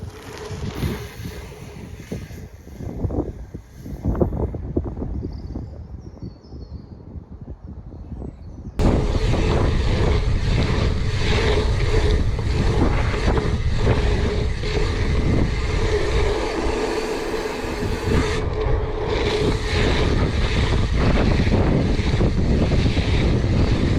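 Riding an old restored steel Charge Iron dirt jump bike outdoors: steady roaring wind rush and rolling tyre noise, quieter with scattered knocks for the first stretch, then loud and continuous, no talking.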